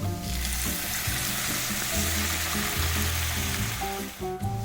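Sherry poured into melted butter with thyme, salt and pepper sizzles loudly in a pan, a dense continuous crackle close up with no talk.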